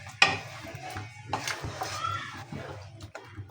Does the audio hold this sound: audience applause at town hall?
no